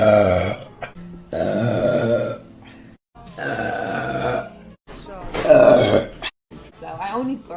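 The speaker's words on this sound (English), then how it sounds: "No, I only burp." Several long, deep, loud burps in a row, each a drawn-out rumbling belch separated by short pauses, close to the listener with no other sound around them.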